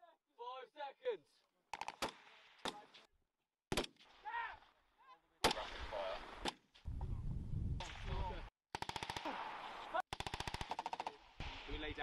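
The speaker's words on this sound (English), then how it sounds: "I need rapid fire to get it! Fire on my count!" Rapid gunfire crackles through a simulated British Army assault by officer cadets, with sharp close bursts of automatic fire and single shots in irregular clusters, and shouted commands between them.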